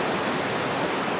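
Pacific Ocean surf on a sunny day rolls as a continuous, loud broadband wash of rushing water, steady and unbroken, with no speech.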